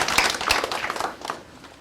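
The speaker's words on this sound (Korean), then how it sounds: "박수 한번 쳐보세요" A lecture-hall audience at a construction safety class claps in a short burst that fades out toward the end, with no voices over it.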